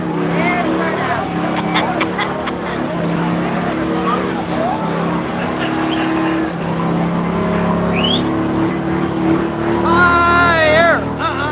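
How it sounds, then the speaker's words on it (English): A motorcycle burnout at the Myrtle Beach bike rally: a sustained engine roar with rising revs and squealing tire whine toward the end, under excited crowd chatter and nearby talk. "There's burnout."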